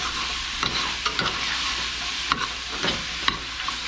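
Turkey and andouille sausage gumbo with garlic being stirred in a pot, a continuous hiss of simmering with scattered scraping knocks of the spoon against the pan, close and alone.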